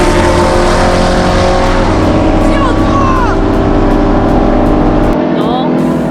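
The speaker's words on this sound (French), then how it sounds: "Un très bon départ pour les deux voitures qui partent quasiment au même moment." A Corvette Z06 and a Camaro ZL1 race side by side over a half-mile, engines roaring loud and sustained at full throttle as they accelerate, with a commentator talking over the noise.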